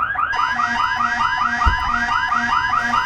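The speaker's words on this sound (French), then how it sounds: "alarme principale, alarme principale" A spaceship's main alarm from Elite Dangerous sounds loud and steady, a repeating electronic warble in a fast regular pulse with a low beeping tone under it and a brief thump midway.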